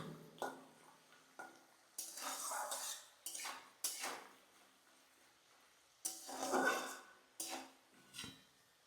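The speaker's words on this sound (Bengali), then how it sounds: "এই আস্তে আস্তে কারি পাতাগুলো খুব সুন্দর ভাজা হবে, লঙ্কাটাও ভালো হবে, আর বাদামটাও কিন্তু ভালো মতো ভাজা হবে।" Curry leaves, green chili and peanuts fry in oil in a pan for a crispy Bengali snack, with a spatula stirring in irregular bursts of scraping and clattering against the metal between quieter pauses.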